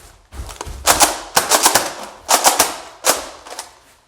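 A Nerf Fortnite BASR-L blaster being handled and fired at close range, a loud series of sharp mechanical snaps and clacks in uneven bursts with no talking.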